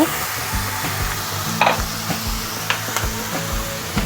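Fried paneer dropped into vegetables of capsicum, carrot and tomato sizzling in a pan, giving a loud, close frying hiss with scattered clatter and stirring knocks throughout.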